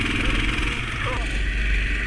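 A Massimo MB200S Mudstar mini bike with an automatic drive runs on a snowy track, its small engine droning steadily and fairly loud throughout, with a faint voice underneath.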